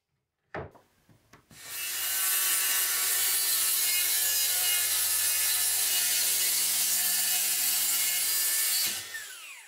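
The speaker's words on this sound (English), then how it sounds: "I'm using my straight edge guide plus the circular saw to cut it into two pieces." A circular saw spins up after a few handling knocks and cuts steadily through a plywood sheet on a workbench along a straight-edge guide, a loud, close, continuous whine that runs down abruptly near the end.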